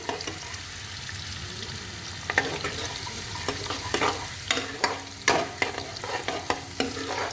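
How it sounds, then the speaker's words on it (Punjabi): Garlic roasts in a pan for a pumpkin and chana dal curry, with quiet sizzling under frequent scraping stirs and clatters that grow louder and busier toward the end. "ਹੁਣ ਆਪਾਂ ਚੰਗੇ ਤਰੀਕੇ ਦੇ ਨਾਲ ਪਹਿਲਾਂ ਲਹਸਨ ਨੂੰ ਭੁੰਨ ਲਾਂਗੇ"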